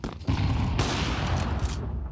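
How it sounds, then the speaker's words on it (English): Burst of gunfire fired through a wall during a competitive first-person shooter match, a loud continuous volley with sharp onset that carries on for about two seconds without talk. "Tries to go for a wall bang."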